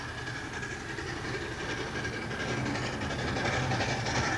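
A small steam locomotive train rolls along its rails with a continuous rumble and rhythmic clickety-clack of wagons, steady and fairly loud, no voices.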